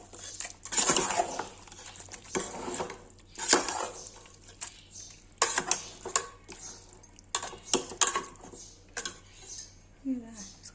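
Chicken masala being stirred in a pan for home-style restaurant chicken, with repeated close scraping and clinking of a utensil against metal in short bursts, a steady low hum underneath.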